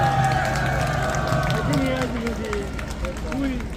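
A large outdoor rally crowd at a Liberation Day gathering near Sungnyemun gate claps in sustained applause, a dense steady wash of many hands, with a voice heard faintly over it.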